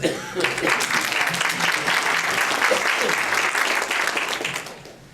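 A room full of audience members at a holistic therapy talk breaks into applause, loud dense clapping that swells quickly, holds steady for several seconds, then fades out, with a few voices faintly mixed in.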